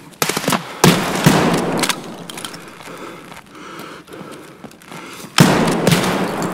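Gunfire in the video game Escape from Tarkov, a loud burst of shots with heavy thumps near the start and another sharp burst at the end, with busy game noise in between.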